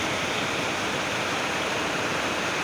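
Rain falls steadily and fairly close, a dense even hiss with no breaks and no voices.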